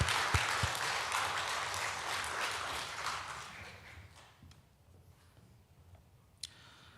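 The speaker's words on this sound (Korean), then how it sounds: "하나님께 영광을 돌리면서 박수로 맞이하겠습니다" A church congregation applauds to welcome a pastor at a Sunday worship service, dense clapping that is steady at first, then fades away to a few scattered claps and quiet room noise.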